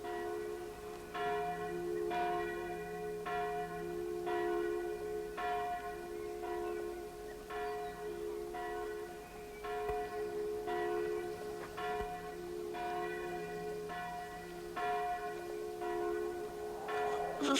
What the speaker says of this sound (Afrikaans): Wat die kerkklokke.